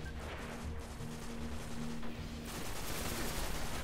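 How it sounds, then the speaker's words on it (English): A dense, distant-sounding firefight from the shooter game Destiny, with continuous gunfire and muffled blasts rolling together at fairly low volume and no single clear bang. "Nice grenade."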